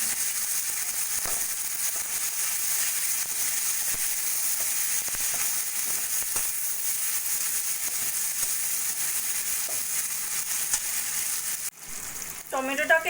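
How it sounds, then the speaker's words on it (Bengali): Chopped tomato frying in a pan with salt and turmeric, a loud dense hiss of sizzling oil continuing steadily up close, ending in a brief burst of clatter and crackle. "দিয়ে দেবো পরিমাণ মতো নুন হলুদ দিয়ে টমেটোটাকে একটু ভাজা ভাজা করে নেব।"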